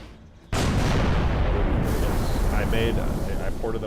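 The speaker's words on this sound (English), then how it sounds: "Oh, you mean these mortar cannons from Halo 2?" In a Halo 3 mod video game, Halo 2 mortar cannons fire with a sudden loud blast, then a long, dense, rumbling roar of continuous impacts and explosions that fills the whole stretch.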